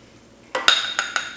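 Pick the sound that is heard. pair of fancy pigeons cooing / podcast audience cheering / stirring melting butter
stirring melting butter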